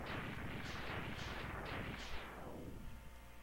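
Enemy weapon fire in the Mega Man X3 video game, a run of several sharp repeated shots in quick rhythm that fade into a lingering rumble, loud and without talk.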